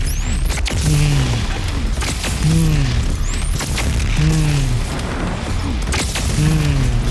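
Gunfire and heavy blasts from the video game DOOM Eternal: The Ancient Gods – Part Two, loud repeated booming shots with swooping sci-fi weapon tones recurring every second or two, with a player talking intermittently.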